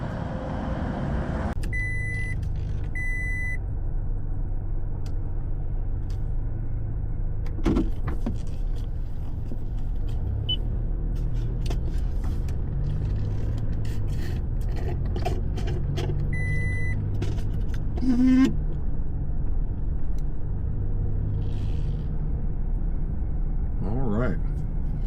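A truck drives with a steady low engine rumble and road noise throughout, and a few electronic beeps chime in the cab now and then.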